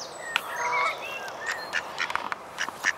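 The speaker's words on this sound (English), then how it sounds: "There's one of my ducks." A male mallard duck out in the open gives a series of short quacks and calls, mid-distance, repeating in irregular bursts over faint outdoor background noise.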